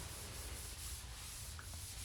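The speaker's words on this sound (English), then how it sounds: "continue the process, sanding it in circles" Steady, even scratching of sanding drywall compound in circular strokes, close and continuous with no speech.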